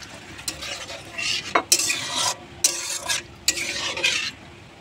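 Water from rinsing the grinder jar is poured into frying drumstick curry and stirred, bursts of sizzling hiss alternating with metal spoon scrapes and clinks against the pot, close by and without talk.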